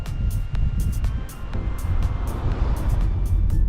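A 2021 Honda Fit 1.5 Executive CVT is driven along, filling the cabin with a steady low engine and road drone and a faint, regular ticking.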